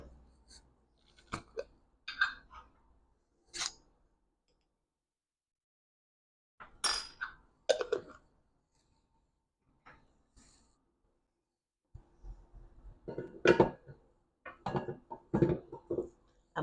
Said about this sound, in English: we're just going to mix this together until a dough forms